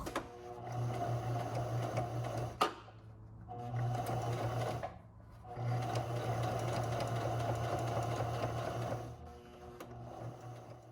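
A slow home sewing machine stitches a muslin draft in three long steady whirring runs, each a few seconds long, separated by short pauses, close and moderately quiet.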